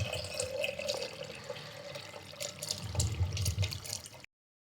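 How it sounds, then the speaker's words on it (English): Water pours steadily into a container sitting on a load cell scale, a continuous splashing trickle at moderate level that stops abruptly near the end, with no talk. "now I'm going to start pouring water into the container."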